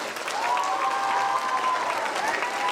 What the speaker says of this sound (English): So the biggest applause for my babies here.